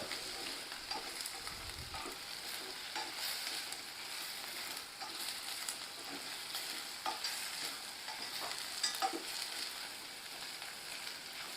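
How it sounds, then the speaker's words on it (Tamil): Mutton bones frying in a pot are stirred constantly, giving a steady close sizzle with repeated scraping and shuffling of the pieces throughout, quiet and unbroken by talk. "கை விட்டுறாதீங்க கிண்டிக்கிட்டே வாங்க இல்லாட்டி நல்லா அடிப்பிடிக்கும்"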